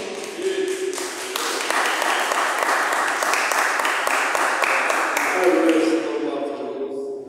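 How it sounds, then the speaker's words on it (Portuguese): A church congregation claps together in praise, a dense, sustained wash of applause that swells and then thins out over several seconds, with a voice faintly heard beneath it. "as palmas louvam ao Senhor"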